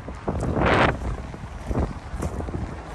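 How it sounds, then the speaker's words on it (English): Short gusts of cold wind buffeting the microphone outdoors, low rumbling bursts with one strong blast early, over faint watery background. "it's cold and windy out here"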